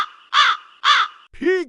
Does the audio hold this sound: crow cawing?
yes